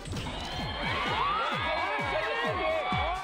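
A crowd of fans in Paris, France cheers and screams as Blackpink Jennie's car arrives, with many overlapping shrill voices rising and falling in a dense, continuous roar.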